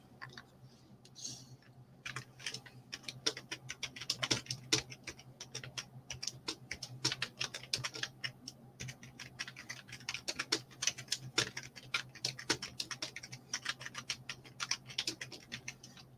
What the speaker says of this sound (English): Right, I need my keyboard.